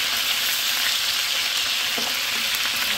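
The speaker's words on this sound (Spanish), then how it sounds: "Aquí vamos a terminar de darle vuelta a todo el pollo, para que se dore por el otro lado." Chicken pieces sizzle steadily in a hot pan for a stew, a dense, even frying hiss with occasional soft scrapes and clinks as the pieces are turned over.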